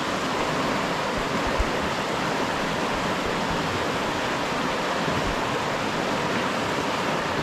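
Water flowing steadily at Panther Creek in upstate New York in winter, a constant broadband rush like a small cascade, close and loud, with no voices.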